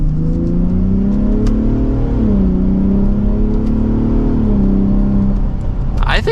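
A 2023 Ford F150 Raptor pickup accelerating hard from second gear, its engine droning loud and steady from inside the cab as the pitch climbs, dips briefly at a shift, then climbs again before easing off.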